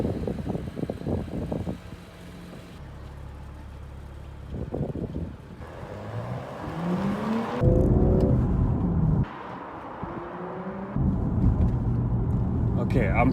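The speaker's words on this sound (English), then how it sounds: "this is the time now that I'm going to take this car for a test drive" BMW M135i out on a test drive: engine revving and rising through gears with changing pitch sweeps, wind and road noise around the cabin, and someone talking in places over the drive.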